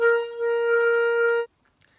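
A single clarinet note played with too little mouthpiece in the mouth, held for about a second and a half, thin and buzzy, then cut off abruptly into near silence.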